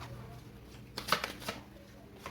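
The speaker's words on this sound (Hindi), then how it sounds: "मैं यहाँ से 10 कार्ड लूँगी। ठीक है। ओके, पहला कार्ड" Tarot cards drawn and shuffled from a deck, a brief flurry of crisp papery flicks and slaps near the middle against a faint hum.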